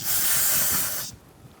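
An aerosol can sprays down the front brake caliper of a 2012–2018 Ford Focus in one close, loud, continuous hiss lasting about a second before stopping sharply, with no talking.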